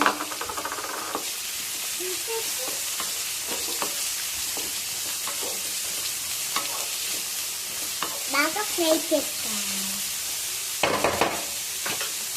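Three large sliced onions frying in oil in a pan, a steady soft sizzle with intermittent scraping stirs and occasional louder clatters, mostly without talk.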